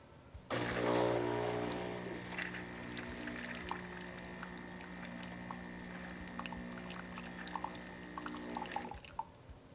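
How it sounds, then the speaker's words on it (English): A Gaggia Velasca Prestige espresso machine pushes hot water through its milk-frothing components, giving a steady loud hissing, gurgling flow with sputters and drips for about eight seconds before it stops abruptly. "it's going to push hot water through the frothing components in here to give them a quick rinse"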